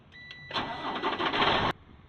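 A truck engine cranks and catches during a pre-trip air brake check, a loud broadband roar starting abruptly and running steadily for over a second before cutting off sharply, with a faint tone before it.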